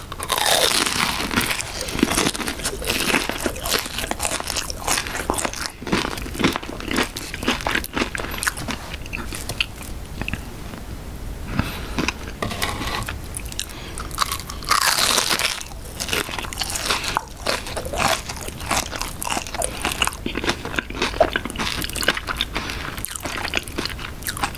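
Someone bites into and chews a McDonald's raspberry cream cheese pie up close, giving crisp, crackly crunches and wet chewing in irregular bursts with short pauses, with no talking.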